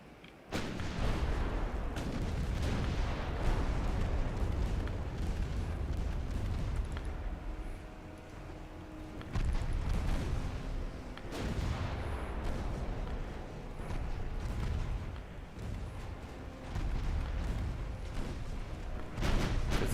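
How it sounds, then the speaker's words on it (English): Warship main and secondary guns fire in Ultimate Admiral Dreadnoughts, a dense, continuous barrage of deep booms and overlapping blasts. It rumbles steadily for the whole stretch, with brief dips between salvos. "Main guns on him, secondaries on him, and you're firing on him."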